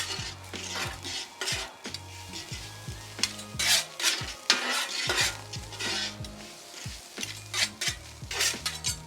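Hibachi fried rice with soy sauce sizzles on a flat griddle while metal spatulas scrape and clack against the hot surface in quick repeated strikes, close and fairly quiet, with no voices.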